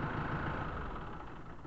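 A Kubota M5 tractor engine idles steadily just after starting, with the revs set a little high; a constant low, even diesel rumble with no talk.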